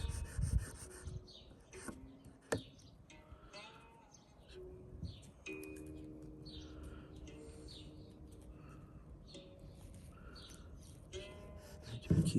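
Fine rubbing and rasping as tree resin crystal bead facets are sanded on 1000 grit, short strokes coming and going close up, with occasional faint bird calls in the background.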